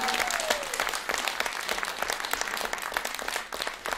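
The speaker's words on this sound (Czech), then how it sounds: "ten potlesk patří vám" Warm, sustained applause from a crowd at a Christmas event, dense clapping that holds steady throughout before easing slightly near the end.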